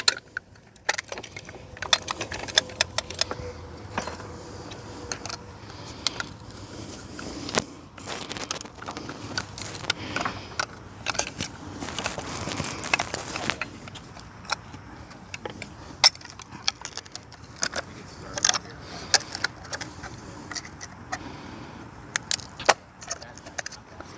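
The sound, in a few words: metal bolt and nut being reassembled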